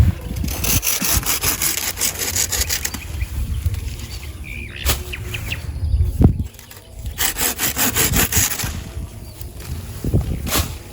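A hand saw rasps steadily through wood in repeated back-and-forth strokes, loud and close, with a brief pause midway before the sawing resumes, while pruning a neglected dragon fruit plant.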